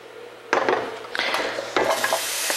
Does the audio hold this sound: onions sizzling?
yes